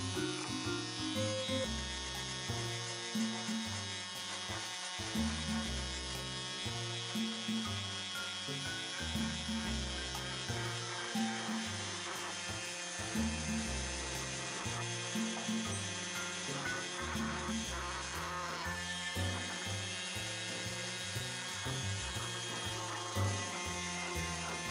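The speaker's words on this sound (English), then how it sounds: "I'm using my orbital sander, starting out with 120 grit" An orbital sander with 120 grit paper runs steadily against a metal Ford auto wrench made by Moore Drop Forging, a close, continuous buzzing drone with shifting rattly tones and no talking.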